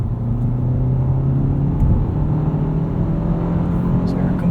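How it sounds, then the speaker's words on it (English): Engine of a 2019 Hyundai Veloster Turbo R-Spec with manual gearbox, heard from inside the cabin as it accelerates: a steady low droning rumble with a rising tone, continuous and moderately loud, with no talk over it. "So there are completely natural engine sounds coming through the cabin."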